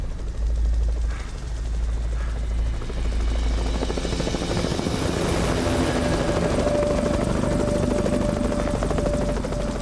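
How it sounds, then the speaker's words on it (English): A rescue helicopter hovers overhead on a night search with its searchlight, its rotor roaring loud and steady the whole time with a low thudding pulse and a whining tone, no voices. "And the helicopter paused and started searching with the searchlight."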